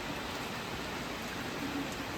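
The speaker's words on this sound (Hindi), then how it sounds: "तो ये देखो झमाझम बारिश।" Heavy rain pours steadily outside in a hill-country town, a dense, even wash of hiss with no pauses and no voices.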